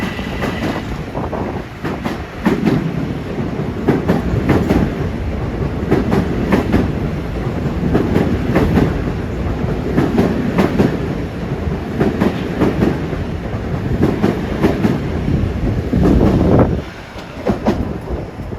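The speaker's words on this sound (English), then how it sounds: "Here comes train 458 from Grand Central to Port Washington" A Long Island Rail Road commuter train passes through Woodside station, a loud, steady rumble with rhythmic clickety-clack of wheels over rail joints lasting throughout, easing slightly near the end.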